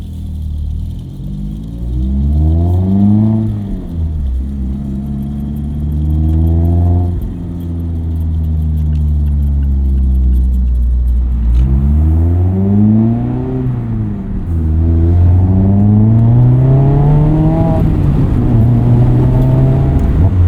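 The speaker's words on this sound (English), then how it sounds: "Let's take the Miata RF for a drive and see how it works on the road." A 2017 Mazda MX-5 Miata RF roadster accelerates through the gears on the road, its engine note rising and dropping with each shift, loud and close from inside the cabin over a steady rumble.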